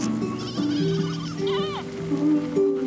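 Goats in a herd on pasture in the Adrar region of Mauritania bleat close by, with one loud wavering cry in the middle of the clip over a steady tonal background.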